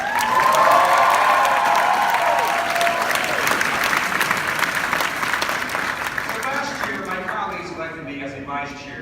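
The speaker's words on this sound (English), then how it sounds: "Give him a big round of applause" Audience at a political rally for a DCCC vice chair breaking into loud applause and cheering, dense clapping that gradually thins out, with a voice speaking over it toward the end.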